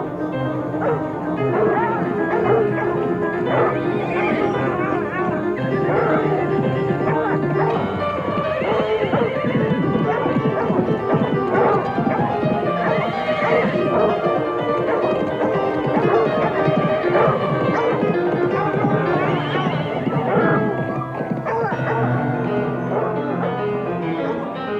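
Horses and hounds in an audiobook scene of a night pursuit, with barking and whinnying sounding steadily over a continuous bed of music for the whole passage.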